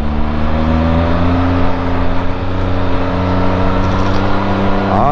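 A motorcycle engine pulls steadily while the bike is ridden uphill, a continuous droning hum with layered harmonics holding near and loud the whole time, with no voices over it.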